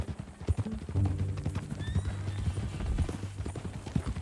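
Horse in Red Dead Redemption 2 clip-clopping along with steady, close hoofbeats, a neigh rising partway through, and some low background rumble.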